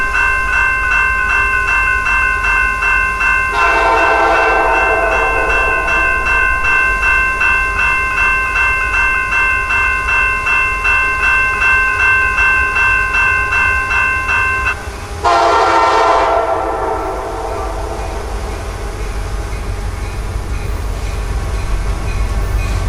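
Train L743 approaches from the north on the Florida S Line with a steady, loud rail rumble throughout. Two long, sustained horn blasts sound over it, the second louder and nearer.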